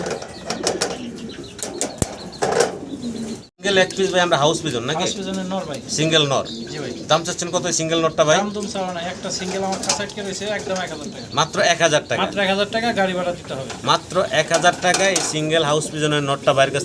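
Fancy pigeons coo repeatedly at close range in rolling, throaty phrases, with wings flapping now and then and someone talking over them.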